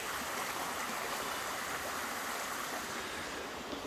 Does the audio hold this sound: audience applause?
no